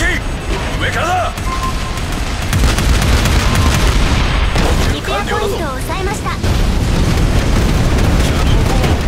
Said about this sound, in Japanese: 砲撃、上からだ。